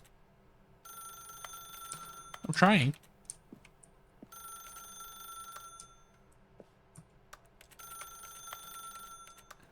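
A telephone in The Stanley Parable rings in three long bursts separated by gaps. Each ring is a bright electronic trill, and a person talks briefly between the rings.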